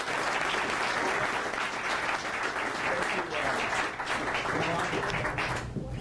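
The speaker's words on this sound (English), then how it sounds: "First, a big round of applause." Following a lecture on ending the Fed, the audience gives a full round of applause, dense and sustained clapping that fills the hall, with faint voices underneath, tapering slightly at the end.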